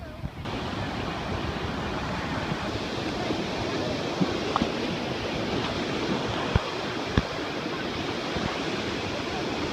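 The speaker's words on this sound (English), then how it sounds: "Oh my God, the waves are humongous." Large ocean waves crash and roar continuously at a beach, a loud, broadband wash mixed with wind buffeting the microphone, with a few faint knocks.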